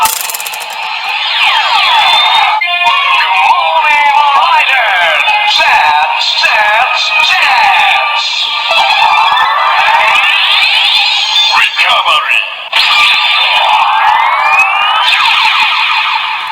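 A DX Knight Invoker Buckle Kamen Rider toy belt plays a loud, continuous electronic sound effect of warbling, siren-like tones that sweep up and down for about sixteen seconds, with brief glitchy breaks.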